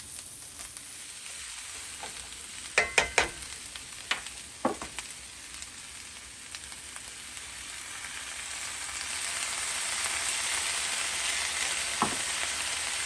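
Cabbage frying and sizzling steadily in a pan with soy sauce while being stirred, with a constant hiss and a few sharp clinks of the utensil against the pan early on.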